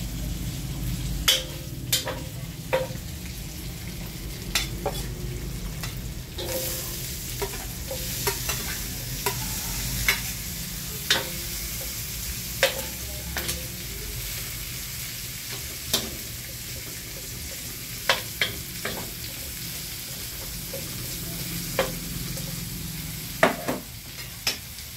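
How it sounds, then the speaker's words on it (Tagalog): Ginisang kangkong, water spinach sautéed with pork, sizzles steadily in a pan while a spatula scrapes and clacks against the metal in frequent sharp taps; no talking. "Ginisang kangkong with pork."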